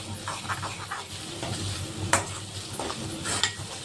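Ginger garlic paste and turmeric stir-fried in hot oil for a bodakakarkaya fry, giving a steady, close sizzle broken by repeated scraping stirs of the pan, with no talking.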